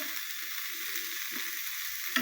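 Food is stirred and fried in a wok for about a minute, giving a soft, even sizzle with faint scraping and a sharp clink near the end, and no voices.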